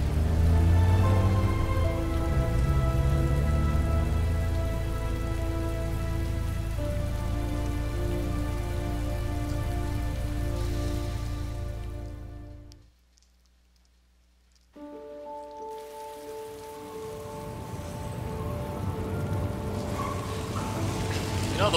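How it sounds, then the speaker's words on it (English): Steady, loud rainfall from the video game Heavy Rain pours continuously, with sustained tonal layers underneath, cutting out almost completely for about two seconds before the downpour resumes. "Rain, rain, rain, rain, and more rain. Just all this rain, and we have no escape."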